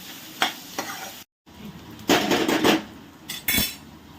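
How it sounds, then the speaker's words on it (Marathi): Chopped onions are sautéed in a pan at a dhaba-style puri bhaji stove, with bursts of scraping and stirring over a sizzle, a brief cut to silence, then louder, rattling stirring strokes. "कांदा लाल होईपर्यंत परतवायचा।"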